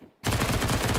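Rapid automatic MP9 gunfire from a Counter-Strike match bursts in loud and sustained after a brief quiet start, a dense stream of shots filling the rest of the moment.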